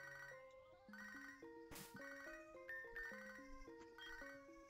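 A phone ringing in Pokemon SoulSilver plays a steady, looping chiptune ringtone melody that is loud and continuous, with a short noisy burst midway and no talk.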